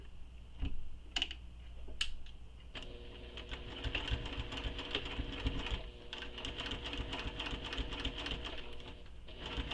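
A sewing machine stitching fabric pieces together along the seam allowance, a quiet rapid mechanical whir after a few soft knocks, running steadily at low level with a faint background tone.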